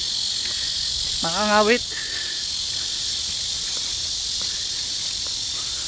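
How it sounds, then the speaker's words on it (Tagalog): Crickets chirp in a dense, continuous high-pitched drone outside Adams Hall at Keimyung University, steady and fairly loud throughout, with a brief spoken word partway through. "Puro kuliglig ang maririnig mo dito."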